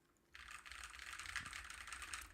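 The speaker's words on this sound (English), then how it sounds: "my funny little split keyboard that is the same one that my model uses" Rapid, continuous clacking from an Ergodox Moonlander split mechanical keyboard, close and fairly loud after a brief quiet start, with dense overlapping keystrokes and nobody speaking.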